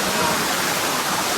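A waterfall near Pemgiri, Sangamner, roars as a steady, loud, broadband rush of falling water, continuous and close, with no talking.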